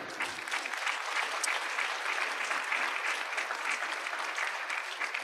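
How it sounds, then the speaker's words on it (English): A lecture audience applauds Dr. Esserman, a dense, steady clapping that holds at an even level for about five seconds with no voices on top. "Ladies and gentlemen, one more round of applause for Dr."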